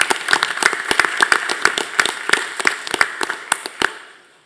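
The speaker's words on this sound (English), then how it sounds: "Let's give them another round of applause." Applause from a small audience at a school board meeting, loud crisp individual claps from a handful of people that are close and clearly separate, then thinning and fading out toward the end.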